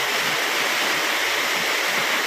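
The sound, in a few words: village waterfall in natural surroundings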